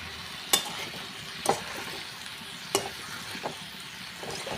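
Spoon scraping through potato curry in a pan on a high gas flame with salt, turmeric and Kashmiri chili powder, a few sharp scrapes and clinks over a faint steady sizzle, no talk.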